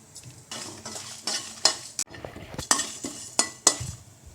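Dried red chilies, coriander seeds, fennel seeds and cinnamon roasting dry in a pan, stirred with a utensil that scrapes and clinks against the metal in uneven strokes, with a faint sizzle beneath.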